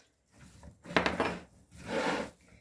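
Oil, vinegar, soy sauce and spices being mixed together with cucumbers in a bowl, two short bursts of rubbing, scraping stirring strokes, close and quiet, no talking.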